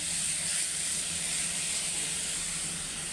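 Chicken buns lightly frying in oil give off a steady, soft, hissing sizzle, close and even throughout, with no talking.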